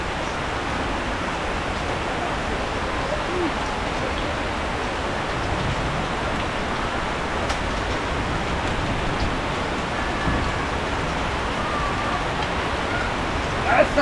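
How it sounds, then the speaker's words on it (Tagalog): Steady rain falls throughout as a dense, even broadband hiss that holds at a constant level with no breaks, and no voices can be heard over it. "Ay, sarap maligo sa ulan ngayon."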